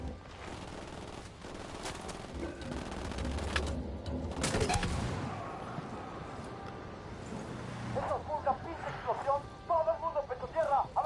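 Gunfire in Ghost Recon Wildlands: bursts of shots and heavy booms in the first half, followed by rapid crackling fire in the final seconds, loud and close, mixed with game ambience.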